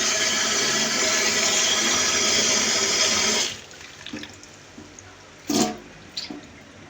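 Cauliflower rinsed under a running kitchen tap, a loud steady gush of water for a few seconds that cuts off, followed by a few faint splashes and drips.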